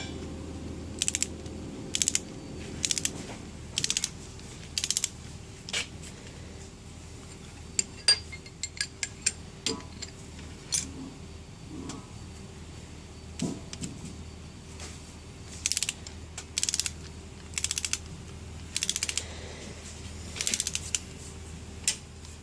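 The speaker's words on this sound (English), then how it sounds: "you want to continue rolling the spool as you tighten it" Hydraulic shifting valve being assembled, with a ratchet wrench tightening bolts while the spool is rolled: bursts of rapid ratcheting clicks separated by quieter gaps over a steady low hum, close and fairly loud, with no talking.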